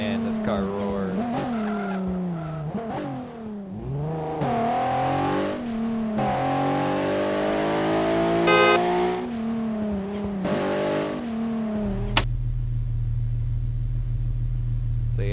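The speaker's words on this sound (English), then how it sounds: "Oh man, this car roars." A car engine roars in Garry's Mod police roleplay, revving with pitch swinging up and down alongside tire squeal, then dropping abruptly to a steady low idle-like hum near the end.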